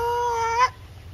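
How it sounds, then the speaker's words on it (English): Chickens on a farm in Kansas give a single short, high harmonic call that cuts off abruptly, faint in the background over a low steady hum. "If you can hear, those are chickens."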